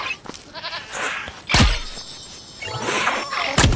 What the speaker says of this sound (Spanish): Se puede hacer cariños a las ovejas